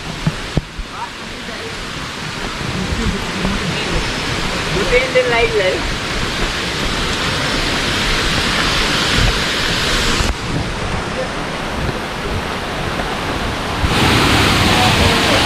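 The Kailash Gufa waterfall in Chhattisgarh roars as a steady, broad rush of falling water, close and continuous, with someone talking faintly beneath it and some wind buffeting.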